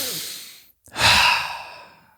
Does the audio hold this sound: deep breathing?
yes